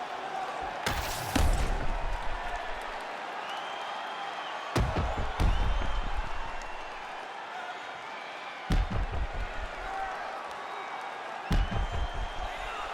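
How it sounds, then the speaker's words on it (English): Arena crowd cheering in the UFC 5 video game between fight rounds, a steady roar of voices with several loud slam-like impacts punctuating it. "the crowd voicing its appreciation after that crazy sequence in the previous round"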